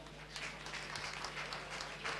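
An audience applauds a children's rock band at a gala evening: a brief patter of many hands clapping at moderate distance, fairly faint over a low hum.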